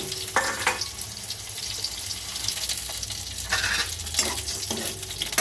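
Cut pointed gourd (potol) fries in hot oil in a pan, giving a bright, constant sizzle broken by sharp scraping and clattering stirs, loud and close with no talking.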